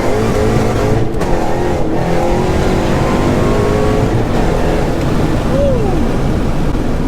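A Shelby with a VMP Gen 3R supercharger and an upgraded throttle body revs hard, a loud, continuous engine roar filling the whole stretch with rising whine and dense rumble, close up.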